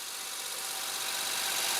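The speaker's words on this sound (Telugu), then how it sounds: "ఇంజిన్ వచ్చేపాటి చాలా పర్ఫెక్ట్గా ఉందండి బీటింగ్ కూడా చాలా స్మూత్ బీటింగ్ అయితే ఉంది" A 2011 Maruti Alto LXi petrol car idles up close with a steady, smooth and even engine hum that holds at a constant level throughout, with no voices.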